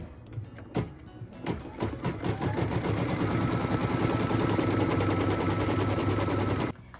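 An embroidery machine tacks down appliqué fabric for a barn project with a rapid, steady, loud stitching rattle after a few sharp clicks, then stops abruptly.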